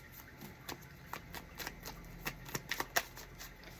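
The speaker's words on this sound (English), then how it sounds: "All right, last shuffle." Tarot cards are shuffled by hand close up, a quiet run of soft riffling taps and flicks that ends in a few sharper snaps.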